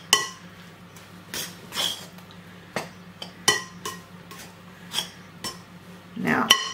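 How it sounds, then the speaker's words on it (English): Table knife stirring scone mixture in a bowl, producing a string of sharp clinks and scrapes against the bowl at irregular intervals, close and clear over quiet background. "Just going to get a knife and use the knife just mix it."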